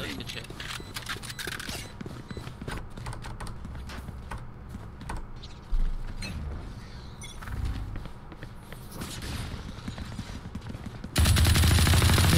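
Gunfire in the video game Valorant, played on the Split map, crackles as repeated shots under steady keyboard clatter and a talking voice, with a louder burst near the end.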